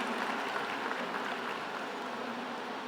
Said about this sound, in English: A big round of applause to your parents and grandparents.